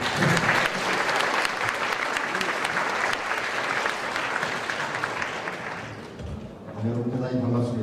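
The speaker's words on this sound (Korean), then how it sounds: "김병기 회장님 지금 나라에 박수 한번 주시죠" Loud, sustained applause from an audience at a Korean polytechnic bio campus autumn festival, dense clapping filling the room for several seconds, with voices audible under it and a speaking voice rising near the end.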